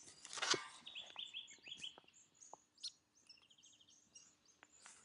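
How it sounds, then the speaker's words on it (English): A grey fantail calls close by outdoors with a series of thin, high chirps and twittering notes, some sharper clicks among them, and no talk over it. "It's a little grey fantail."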